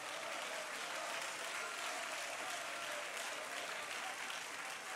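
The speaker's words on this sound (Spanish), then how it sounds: "Dale palmas si vives." A church congregation clapping their hands together, a steady, dense wash of applause from many people, even and continuous with no break.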